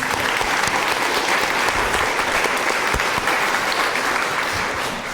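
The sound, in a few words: audience applause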